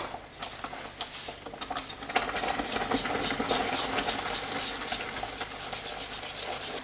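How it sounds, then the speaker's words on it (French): Caramel mixture for salted-butter caramel is whisked steadily in a saucepan over low heat, giving a continuous close scraping, rasping swish of the whisk against the pan that grows louder and denser after the first couple of seconds, with no talking. "Donc on va fouetter sans cesse pendant 2-3 minutes"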